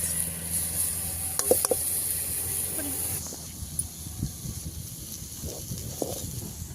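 Spices crackle and sizzle in hot oil for a tempering, cooked outdoors in a field, a bright hiss that drops away partway through, leaving scattered pops and stirring clatter.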